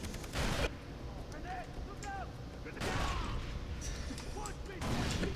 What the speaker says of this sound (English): I threw a grenade at you.